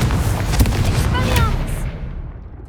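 A Confringo spell explodes in Hogwarts Legacy with a loud, booming blast and crackling burst that decays over about two seconds to quiet.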